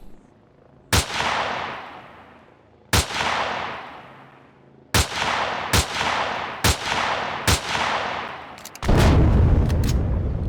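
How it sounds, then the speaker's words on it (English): In Empyrion Galactic Survival, loud gunshots crack out one by one at uneven intervals, each with a long ringing decay, before a bomb explosion erupts into a sustained roaring blast at the end, with no talking. "He shot a bomb near me"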